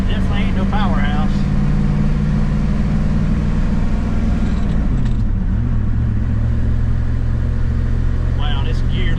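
A 1988 Ford Super Duty rollback truck drives on pavement, its engine a loud, steady low drone with gear-driven pitch shifts partway through and bits of talk over the top.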